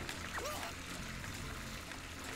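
Water runs from a tap in the Tinykin video game, a soft steady trickling stream with a brief chirpy game sound near the start and no speech.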